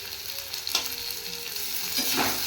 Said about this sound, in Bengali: আদা রসুন দিয়ে ভেজে নিয়ে দিয়ে দিলাম